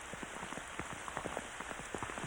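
Rain patters steadily on an old roof above thick wooden pillars, with countless small drops tapping continuously at a soft, even level and no voices.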